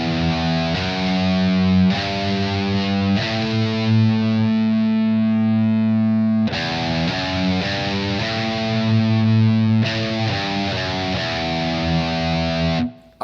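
Distorted electric guitar chugs a four-note thrash metal galloping riff, loud and alone, with sustained harmonic-rich tones broken into repeated rhythmic sections and a few abrupt changes.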